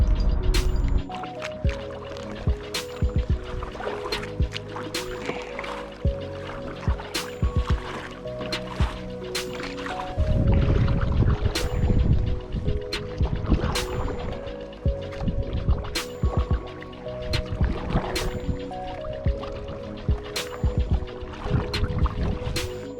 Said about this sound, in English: We've been paddling for a long time.